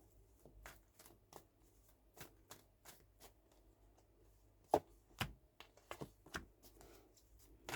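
Tarot cards are shuffled by hand in a quiet room, giving a series of crisp, irregular riffles and taps that sound close and soft, with occasional sharper snaps and no talking.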